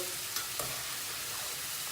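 Steady crackling sizzle of eggplant frying in hot oil, close and continuous, with a couple of brief clinks near the start.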